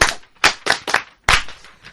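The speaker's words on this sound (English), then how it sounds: "Applaudissez-vous." A few people clap in short bursts at the end of a language class session, sharp separate claps close by, about five quick hits in two seconds.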